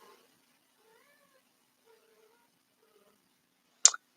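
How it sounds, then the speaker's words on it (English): A pet cat, a young male, gives a single short, clear meow close by after several seconds of near silence and a few faint soft murmurs. "here comes my cat"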